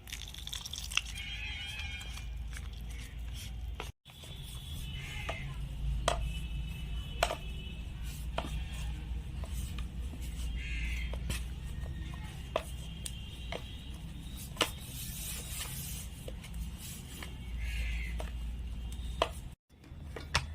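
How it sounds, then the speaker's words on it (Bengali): Paratha dough kneaded by hand while water is added a little at a time, giving soft repeated squelches, taps and drips at close range in a quiet kitchen, with no talking. "এখন আমি অল্প অল্প জল দিয়ে মেখে নেব।"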